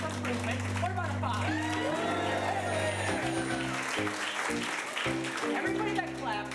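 Applause from the audience at an improv comedy show, a sustained wash of clapping with some whoops, mixed under someone talking loudly over it.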